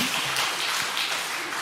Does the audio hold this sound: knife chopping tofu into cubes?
no